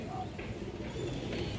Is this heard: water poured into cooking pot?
no